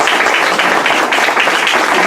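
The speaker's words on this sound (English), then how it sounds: "So give yourselves a round of applause for that." Dense, steady applause from a group of people clapping for the students, loud and continuous throughout a short stretch with no pauses or voices standing out.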